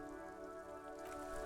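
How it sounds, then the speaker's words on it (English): Steady rain falls throughout in the video game Disco Elysium, a dense, even patter of drops on surfaces with a low ambient hum beneath, no voices. "This rain will not let up anytime soon."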